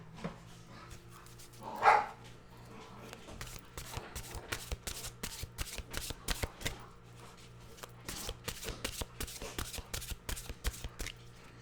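Mystical wisdom cards are shuffled close by in quick, rapid riffling bursts with brief pauses, a crisp repeated flutter of card stock, alone without speech.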